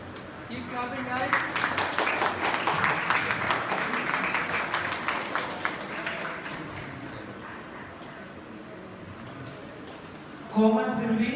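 An audience claps for contestants at a senior-category prize announcement at a Bhagavad Gita values olympiad, with steady applause fading over about eight seconds before a voice speaks near the end.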